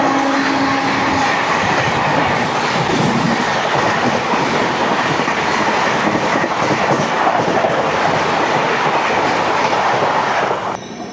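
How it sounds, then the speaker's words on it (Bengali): The 22812 New Delhi–Bhubaneswar Tejas Rajdhani Express speeds past at full throttle, a loud, steady roar with clickety-clack of wheels over rail joints lasting throughout before easing off at the very end. "ও ফুল থ্রটেলে বেরোচ্ছে। চলে আসছে 22-812 নিউ দিল্লি ভুবনেশ্বর তেজস রাজধানী এক্সপ্রেস।"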